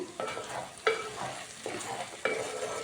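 Okra being stir-fried with chili powder in a pan, a steady sizzle broken by several scraping stirs of a spatula at close range, with no talk.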